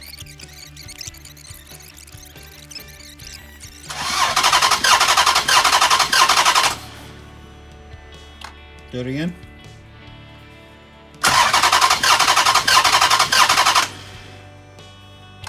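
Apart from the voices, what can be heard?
2006 Dodge Charger RT engine starting and running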